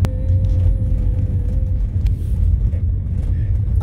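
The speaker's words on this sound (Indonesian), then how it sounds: "kita saksikan bus apa saja ya guys yang pertama masuk di Terminal Bato, Banda Aceh" A bus rolls into Batoh bus terminal in Banda Aceh, its heavy engine rumbling loud and close with a deep, continuous low drone, a faint whine on top early on.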